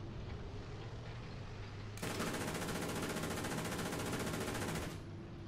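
Tank-mounted machine guns fire in a tank video game, one unbroken rapid rattle lasting about three seconds over a low engine hum, fairly faint overall.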